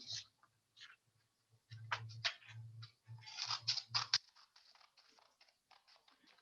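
Scissors cut paper in a craft session, a series of crisp snipping and rustling sounds in uneven bursts, close and fairly quiet.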